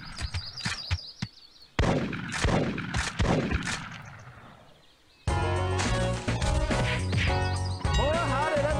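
Rifle shots in the Big Buck Hunter Pro hunting arcade game during a bighorn sheep round: several sharp cracks, then a loud blast trailing into a fading echo, followed by a burst of game music and effects.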